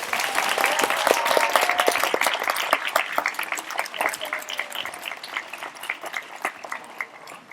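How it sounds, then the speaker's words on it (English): Steady applause from an audience at a 2021 farewell ceremony honours the graduating class, with dense, crisp clapping that stays loud throughout and tapers slightly toward the end. "give a huge round of applause to the graduating class"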